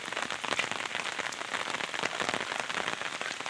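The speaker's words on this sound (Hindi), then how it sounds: "फिलहाल बारिश लगातार जारी है" Continuous heavy rain falls during a monsoon downpour in Uttarakhand, a steady dense hiss of drops hitting surfaces, loud and unbroken throughout with no voices.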